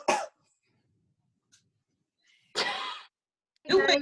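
A few short, close coughs separated by silence, the last ones rougher and more throaty.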